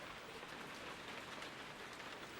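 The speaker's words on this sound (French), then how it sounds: "il recommence à pleuvoir" Cartoon rain falls in an even, continuous hiss of pattering drops, soft and unbroken throughout, with no voices.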